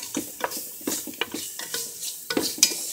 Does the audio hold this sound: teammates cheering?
no